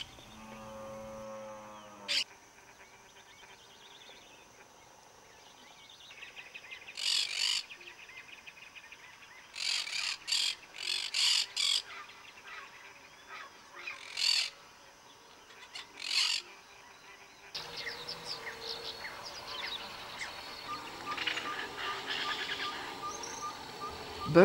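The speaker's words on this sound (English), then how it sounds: "Birdsong heralds a new day" Birds sing in the Pantanal wetlands at dawn, with a trilling call at the start and then repeated bright, chirping bursts over a quiet background that grows busier toward the end.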